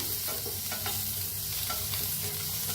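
Sliced onions sizzle and fry in a kadhai while being stirred, a steady close hiss with soft scraping strokes throughout, no talking.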